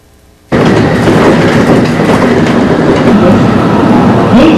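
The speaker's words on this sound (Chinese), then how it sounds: "搭上电车，从日本东京出发" Electric commuter train departing Tokyo, Japan, loud continuous rumble and clickety-clack of wheels on rails starting suddenly after a brief quiet moment and holding steady throughout.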